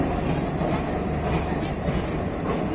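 Okha–Rameswaram passenger train running past in the morning, a loud, steady rumbling roar with a faint clatter of wheels on rails, close by and continuous, no voices.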